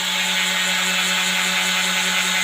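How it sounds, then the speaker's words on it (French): A power sander and saw run together off a portable power station, droning in a loud, continuous whirring whine with a low hum underneath, uninterrupted throughout. "Je vais allumer la ponceuse aussi avec."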